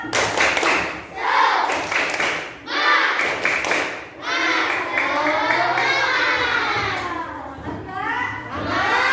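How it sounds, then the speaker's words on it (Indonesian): A class of young children in an elementary school classroom doing a rhythmic spirit clap, bursts of clapping mixed with loud chanting voices and a teacher leading. "Sebelumnya kita belum tepuk semangat, tepuk semangat dulu ya."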